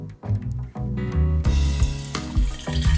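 Pork dropped into very hot oil in a pot, a loud close burst of bubbling and sizzling with repeated pops and splashes as the pieces go in.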